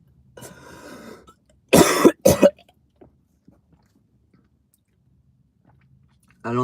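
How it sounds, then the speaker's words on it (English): A coughing fit from a person speaking live: a couple of harsh, loud coughs in quick succession up close, set between a stretch of muffled breathing or mumbling and silence, with speech starting at the end. "I don't know why I'm having a coughing fit,"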